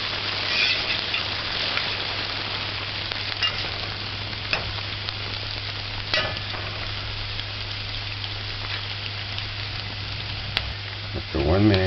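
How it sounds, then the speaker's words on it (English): Diced onion sizzles steadily in a hot pan for rice, a continuous dense frying hiss with a few soft stirring knocks and a low hum underneath. "the diced onion. Just allow that to saute for 30 seconds."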